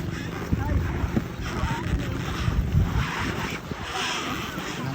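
Steady wind and rough sea waves rush around a small fishing boat, a continuous broad roar with irregular water slaps and gusts, with voices faintly underneath.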